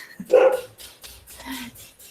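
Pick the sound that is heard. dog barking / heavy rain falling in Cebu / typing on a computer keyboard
dog barking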